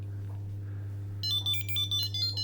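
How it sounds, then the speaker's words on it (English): A low steady hum runs throughout, then a Chipolo One item tracker's high electronic ringtone starts partway, repeating short bright beeping tones, clear and fairly loud. "It is actually a quite loud ringtone"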